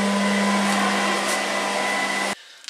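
Loud, steady blower fan roaring as it inflates a homemade air-conditioned suit, a constant close drone with a strong hum that cuts off abruptly near the end.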